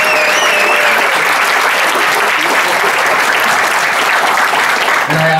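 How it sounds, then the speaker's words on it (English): An audience at an awards ceremony breaks into loud, sustained applause, a dense wash of clapping that carries on for several seconds before easing off near the end. "can I please get a round of applause for Marcel and his team, the Cali Fight?"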